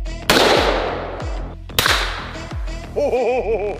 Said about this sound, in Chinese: 首先是狂暴猎人 Raging Hunter 转轮手枪射击时的声音